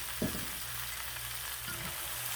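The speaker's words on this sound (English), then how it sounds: "Put them a little bit in here. Saute them lightly." Red pepper and onions sauté in a pan with a steady, close sizzle and crackle. Two brief stirring scrapes break through the frying.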